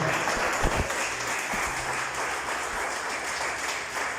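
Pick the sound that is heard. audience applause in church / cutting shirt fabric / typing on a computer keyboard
audience applause in church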